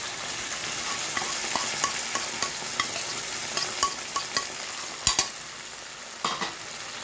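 A blended masala paste of ginger, garlic, nutmeg, mace, onion, tomato and garam masala fries steadily in a pan, a constant sizzle broken by regular clicks of a spoon stirring, with a couple of louder scrapes near the end.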